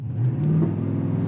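A Dodge RAM 1500 with a 5.7L V8 accelerates hard from a launch in auto four-wheel-drive mode, a loud, steady low engine roar with a rising tone, heard close and continuous with no talk.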